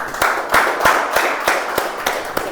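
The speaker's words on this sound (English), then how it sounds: "let's give a big round of applause for that speech" Meeting audience clapping after a speech, a modest group of distinct hand claps in a loose rhythm, close and clear with no talk.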